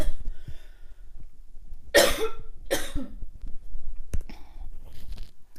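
Two sharp coughs from a woman recovering from laryngitis and an upper respiratory infection, close and fairly loud against a quiet room, followed by a few softer throat sounds.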